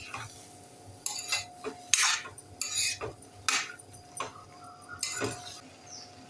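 Mixed vegetables for Bhogichi bhaji, made without onion or garlic, stirred and sautéed in oil over medium heat, giving repeated scraping and clinking strokes of a spoon against the pan with a soft steady sizzle underneath.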